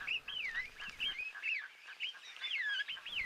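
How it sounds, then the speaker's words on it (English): Egyptian geese calling in the wild, a run of loud, nasal honking calls repeating close by with no talk over them. "You also just hear that as Egyptian geese"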